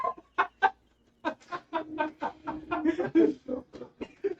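A stolen chicken clucks in a tabletop role-play scene on a farm, a string of rapid, uneven squawks and clucks, close and fairly loud, after a brief opening pair of calls and a short pause.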